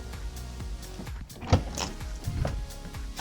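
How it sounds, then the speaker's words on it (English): A Tesla Model 3 car door swings shut with a single solid thud, heard close against faint background noise and small handling sounds. "Close the door."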